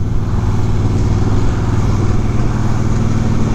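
Vehicle engine fitted with a Kaufman thunder exhaust, crossing a bridge into Marietta, gives a steady, loud low rumble with constant drone throughout and no talk over it.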